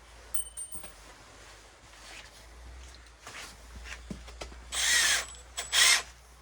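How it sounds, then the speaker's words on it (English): A power drill drives long screws into a kayak and canoe storage rack, two short loud whirring bursts near the end after quieter clicks and handling noise. "make sure your drill is on forward"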